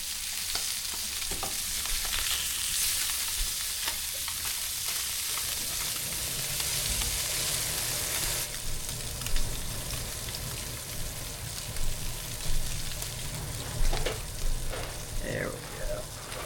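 A fish fillet spearfished on a shore dive fries in a pan with a steady loud sizzle. The sizzle shifts as the fillet is flipped, and light scraping and soft talk come through under the frying.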